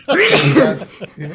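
A single loud, close sneeze with a sharp inhale buildup and explosive burst, followed by a brief breathy tail.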